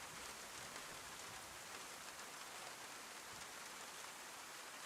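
Steady rain falling in the Chernarus setting of a survival video game, a dense, even hiss of drops with no breaks, soft and continuous with no voices.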